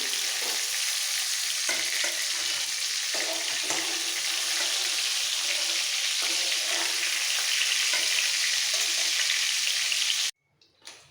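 Pointed gourd (potol) frying in oil gives a loud, steady, dense sizzle that carries on unbroken, then cuts off abruptly near the end.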